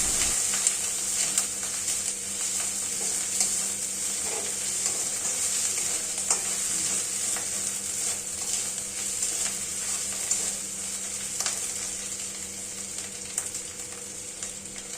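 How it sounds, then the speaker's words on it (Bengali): Onion with ginger-garlic paste frying in a pan for soybean do-piyaza, a steady close sizzle with faint scraping of stirring running throughout, no voices. "খুব ভালোভাবে পেঁয়াজের সাথে আদা রসুনের পেস্টটা মাখিয়ে কষতে থাকব।"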